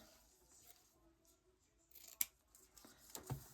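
Scissors snip through red ribbon for a big bow, a single sharp cut standing out near the end of a quiet, low-level stretch of faint handling noise.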